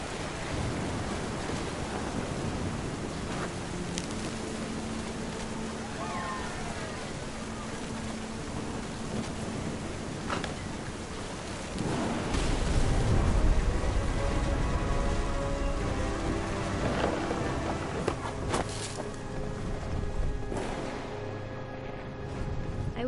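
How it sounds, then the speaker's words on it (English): Heavy rain with low rumbling thunder in a storm scene in What Remains of Edith Finch, a constant hiss of downpour with a deeper rolling swell midway, no voices over it. "The thunder sounded much too close and full of angry power."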